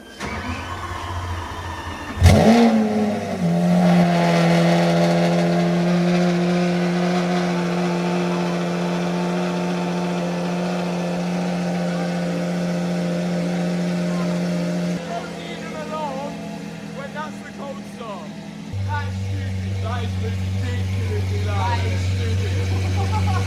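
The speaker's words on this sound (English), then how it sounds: "Best cold start up in the game." A Lamborghini SVJ fires up from cold with a sharp starter bark, then settles into a loud, steady idle that shifts pitch and level a few times as it revs, with a voice talking over it.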